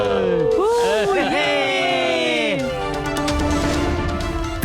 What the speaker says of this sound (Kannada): ಜನರೆಲ್ಲ ಖುಷಿಯಿಂದ ಸಂಭ್ರಮಿಸ್ತಾ ಇದ್ದಾರೆ.